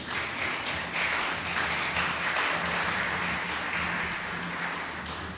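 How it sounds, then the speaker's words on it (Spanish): A church congregation applauds together, a sustained wash of many hands clapping at steady strength for several seconds, somewhat roomy and without speech over it. "Denle un aplauso al Señor."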